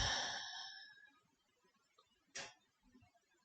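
A single sharp breath sounds at about 2.4 s during a seated chair yoga session, after a fading voice at the start. The room is otherwise quiet.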